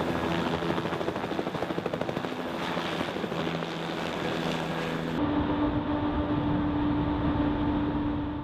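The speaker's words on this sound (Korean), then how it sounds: "헬기가 이륙을 시도합니다." A helicopter lifts off in Arctic sea fog, its rotor chop and engine whine loud and steady close by, with wind noise over the microphone.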